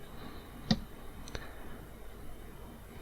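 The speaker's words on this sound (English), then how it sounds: "we're going to click OK and the box disappears" Two sharp computer mouse clicks on an on-screen OK button, close and quiet, the first slightly louder, followed by near silence with faint room hiss.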